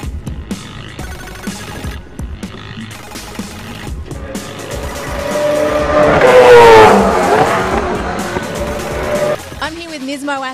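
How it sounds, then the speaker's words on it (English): A Nissan Altima V8 supercar on a race track, its engine building from a distant rumble into a loud, close pass with rising and falling pitch, then fading, with a voice speaking briefly at the end. "Let's take a look at what he thought of the Nissan Altima V8 supercar."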